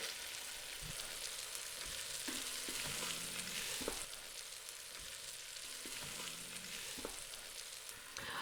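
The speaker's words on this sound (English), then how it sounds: "Now I'm searing about 3 minutes on each side. Add more olive oil if you need to." Beef seared in olive oil in a pan produces a constant, even sizzle throughout, close but fairly soft, with a few light clicks and thumps of utensils or pan handling, no talk.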